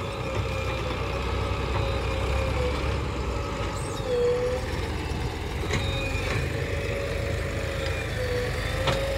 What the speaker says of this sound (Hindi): तीन ट्रैक्टर लग रहे हैं ना, तो लग रहे डंपर